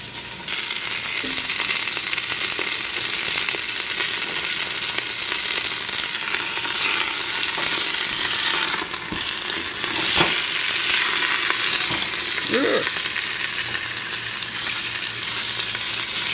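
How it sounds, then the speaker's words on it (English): Sausage sizzling and popping as it browns in a hot pot, a steady loud crackle with occasional scrapes and stirring knocks throughout. "So what we're going to do right now is brown the sausage."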